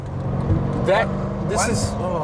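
A Mercedes-Benz E63 AMG S in comfort mode gives a low, steady exhaust drone from inside the car, with someone talking over it throughout.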